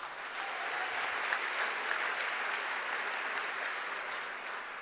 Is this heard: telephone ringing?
no